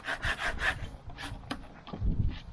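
Beeswax being scraped off a wooden beehive frame: a run of close, rasping scrape strokes, with a lower scuffing rub toward the end.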